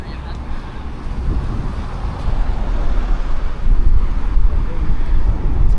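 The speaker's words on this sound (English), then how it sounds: "Windy again today, as is often the case in the Canaries." Strong gusty wind roars and buffets against the microphone on a sand beach in Arrecife, Lanzarote, rising louder in the second half, with a low rumble of surf mixed in.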